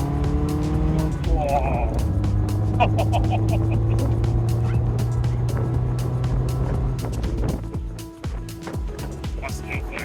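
A Triumph Spitfire MK4 sports car engine revs and pulls away, loud and close. The engine note rises and holds, with a voice briefly exclaiming.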